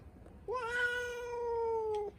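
One stray cat gives a single clear, drawn-out meow of about one and a half seconds while being fed, close and distinct over a faint background.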